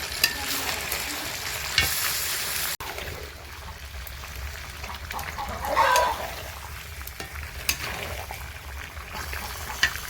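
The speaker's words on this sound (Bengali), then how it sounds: "স্বাদ পরিমাণে হলুদ গুঁড়ো করে খুন্তি দিয়ে নেড়ে দিতে হবে" Meat with chili and turmeric powder being stirred with a spatula in a pan, a steady sizzle with scraping strokes and occasional sharp taps of metal, close by, with a chicken clucking faintly in the background.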